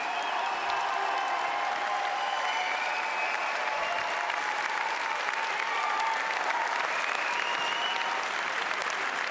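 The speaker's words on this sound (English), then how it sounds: "Ladies and gentlemen, huge round of applause, please, for the makers of the film, Mark and Shane Meadows" Sustained applause from a cinema audience at a screening of a Stone Roses documentary, greeting the filmmakers with thick, continuous clapping and faint cheering mixed in throughout.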